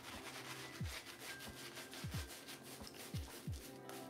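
A Theta boar bristle shaving brush lathers hard shaving soap on skin, a close, soft rhythmic scrubbing of repeated brush strokes.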